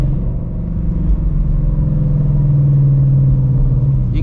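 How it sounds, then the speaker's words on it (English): Shelby GT350 Mustang running on E85 with a full bolt-on setup, its V8 rumbling loud and close as the revs shift through crisp downshifts, a deep steady engine drone with no voices over it. "You get the nice, just crisp downshifts"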